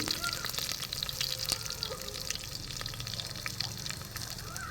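Curry leaves, cumin and mustard seeds crackle and sizzle in hot oil on a wood-fired stove, with sharp pops over a steady frying hiss, close by and fairly loud.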